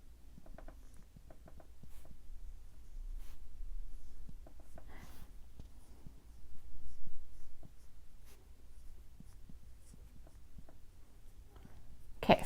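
Pentel metallic brush pens drawn across paper, soft close scratchy strokes and light taps coming in an irregular rhythm, faint and intimate, with no talking.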